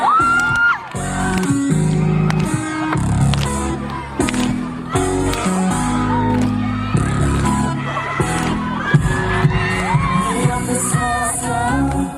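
A festival concert audience at a youth festival in Changwon cheers, whoops and claps continuously under loud amplified pop music, with shrieks and yells rising and falling throughout.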